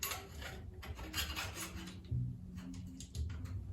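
A seat post sliding into the frame of a Fit Bike Co Series 22 BMX bike, a close rough scraping and rubbing in uneven strokes, with a couple of duller knocks near the end.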